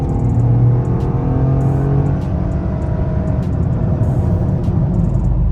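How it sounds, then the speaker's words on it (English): A 2025 Toyota GR Corolla hot hatch engine rumbles loudly and steadily throughout, a low continuous drone with a slight rev, heard up close with no talking. "So give it a little rev."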